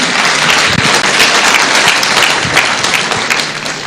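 A room full of people applauding at a UDA party political gathering in Nakuru, Kenya, loud and sustained clapping throughout, with no one speaking.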